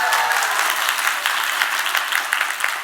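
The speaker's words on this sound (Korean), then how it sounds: "좀 박수 더." An audience claps after a speech-contest winner's talk, a dense, even patter of many hands sustained throughout the short stretch with no voices over it.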